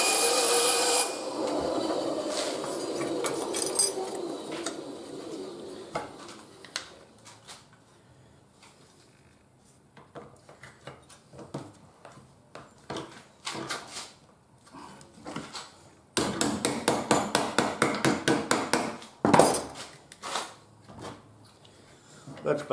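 Metal brake reservoir cover for an Africa Twin being bent and trimmed in a vise, with rasping, filing and rubbing strokes, scattered clanks, then a rapid burst of repeated strokes near the end, and a voice talking at times.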